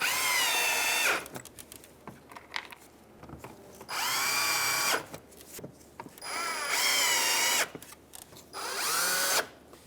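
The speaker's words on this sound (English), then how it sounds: "we're going to put in our 4 Phillips screws." A power driver runs in four Phillips screws on the upper grille of a 2015-2019 Hyundai Sonata, giving four separate loud whirring bursts with short pauses and faint handling clatter between them.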